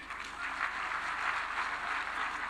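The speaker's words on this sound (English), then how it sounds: "Another round of applause for Senator Kajwang" Audience at a devolution conference opening in Homa Bay County applauds, a steady wash of many hands clapping at moderate distance, continuous throughout.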